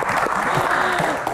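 An audience at a Q&A session applauds, dense continuous clapping filling the short moment at close range with a murmur of voices mixed in.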